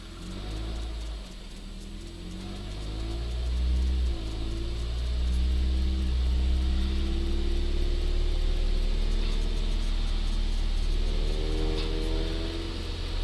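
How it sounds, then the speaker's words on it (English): A Suzuki SX4 with a vibration fault idles with a steady low rumble, then its engine is revved up and held, the drone rising and sustained, close and loud, with no talk. "I'm going to rev it up and see what happens"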